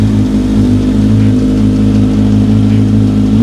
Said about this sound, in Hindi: अब हम लोग इस मोटरसाइकिल की आवाज सुनते हैं एक बार